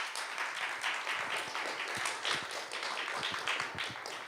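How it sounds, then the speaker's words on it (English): Quiet round of applause from a small audience at a student organisation's talk event. Scattered individual claps, soft and somewhat distant, continue steadily for several seconds with no speech over them. "I'd love to give them a round of applause."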